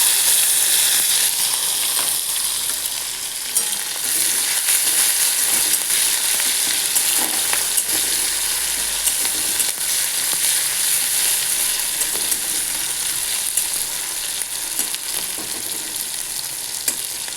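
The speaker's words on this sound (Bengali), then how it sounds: "তারপরে এই টমেটো আদা আর লঙ্কাটা দিয়ে দিচ্ছি।" Tomato, ginger and green chilli sizzle in hot oil in a pan, with asafoetida and five-spice already added for a vegetarian potato curry. The frying is a steady, close, bright hiss that runs unbroken throughout, with no voices.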